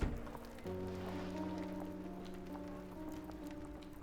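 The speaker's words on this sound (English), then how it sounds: "And it's rainy in London, no surprise." Steady rain falls in London within the Sherlock Holmes: The Awakened video game, a continuous patter under a low sustained musical drone, with no voices.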